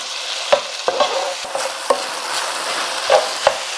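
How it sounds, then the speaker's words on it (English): Ground beef and onions frying in a pan, a close crackling sizzle broken by repeated sharp spatula scrapes and taps at irregular intervals. "let me get this ground beef and this onions cooked"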